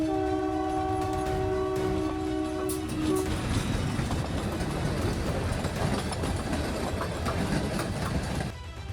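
A train on the Junagadh to Veraval line through the Gir forest blows a sustained horn, then rumbles past close by with steady rolling clatter that drops away at the end.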